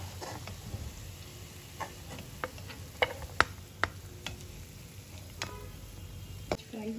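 Onions and almonds frying in oil, a steady soft sizzle with scattered sharp pops and crackles that stand out clearly throughout.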